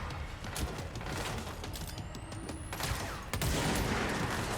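Rapid bursts of gunfire in the video game Control, dense and loud, with short sharp shots layered over a steady background rumble and a brief rising tone.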